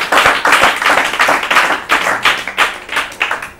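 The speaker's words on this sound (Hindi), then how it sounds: "इनके लिए ताली बजाइए।" An audience at an Urdu-language literary quiz show claps for a contestant, a close burst of brisk, evenly paced handclaps lasting a few seconds with no talking.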